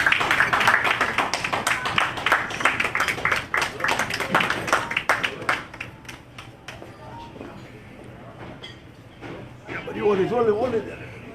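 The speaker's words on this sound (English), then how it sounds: "Let's stand and give him a big round of applause," An audience stands and applauds at a lifetime achievement ceremony, dense rapid clapping for several seconds that thins out and fades, followed by a voice speaking.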